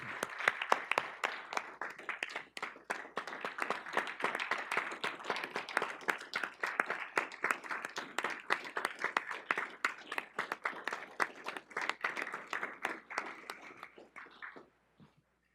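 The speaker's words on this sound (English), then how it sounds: "So let me give a round of applause for her." A small group at a Lower Colorado River Authority board meeting claps for about fifteen seconds, steady and fairly close, with individual claps audible before it thins out and stops.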